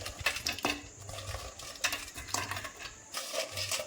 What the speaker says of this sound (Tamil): நம்ம க்ளீன் பண்ணி வச்சுருக்கிற நண்டு துண்டுக்களையும் சேர்த்துக்கலாம்